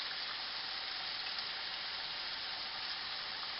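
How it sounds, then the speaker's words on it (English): Thinly sliced onions and peppers frying in a pan, giving a steady, even sizzle that stays constant and fairly soft throughout, with no talk. "the thinner you cut your onions and peppers, the quicker they're going to cook"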